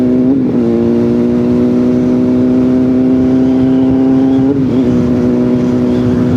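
A Honda CBR600RR with an aftermarket exhaust, no catalytic converter and no servo, idles with a loud, steady low exhaust drone, dipping briefly twice as it shifts at low revs.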